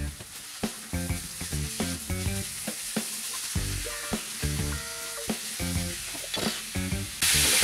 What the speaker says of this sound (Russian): Вслед за кабачком добавляю фарш,